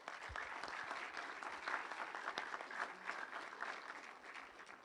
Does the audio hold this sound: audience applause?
yes